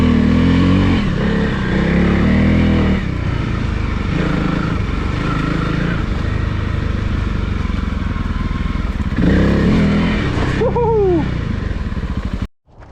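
Honda CRF300L motorcycle engine riding off, revving loud and close with rising and falling pitch through several throttle pulls, then cutting off abruptly at the end.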